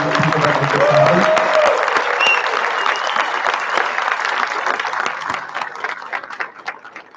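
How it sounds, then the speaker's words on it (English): A conference audience at DevOps Days Raleigh 2023 bursts into loud applause for organizers and volunteers, a thick wash of many hands clapping that peaks early and then gradually thins and fades, with a few voices mixed in. "can we give a big round of applause to all the organizers and volunteers"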